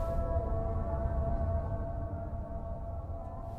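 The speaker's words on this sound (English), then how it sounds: "It's the sound of the azan." A faint, distant sustained chanting voice of the azan call to prayer in Kabul, Afghanistan, drifts over a low rumbling background hum, steady throughout with no nearby talk.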